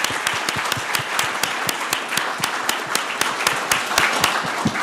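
An audience at a Columbus, Georgia city council meeting claps in a sustained round of applause, dense overlapping hand claps at steady volume with a few sharper individual claps standing out.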